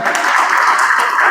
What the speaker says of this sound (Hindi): जोरदार तालियां हो जाए एक बार सर